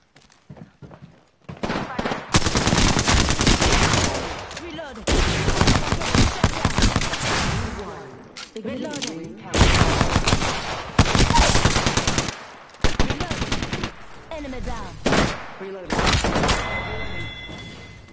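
Rapid automatic gunfire in the video game Apex Legends comes in several loud, sustained bursts separated by short gaps, with players talking over the action.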